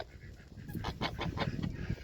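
A male goose (gander) honks repeatedly in a rapid series of loud, harsh, aggressive calls, close by, with a noisy farmyard background.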